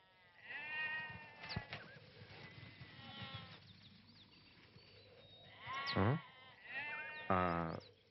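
Goats bleating in a rural setting, with softer wavering calls early on and two loud, close, quavering bleats toward the end, heard without speech.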